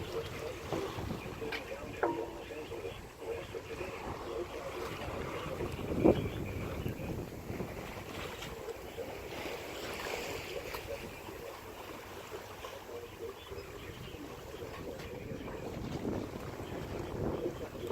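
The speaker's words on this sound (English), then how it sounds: "I just love how it sounds when you're sailing without an engine running." A long stretch of wind rushing past and water washing along a sailboat's hull at sea off Catalina Island, with no engine running, and occasional soft knocks and creaks.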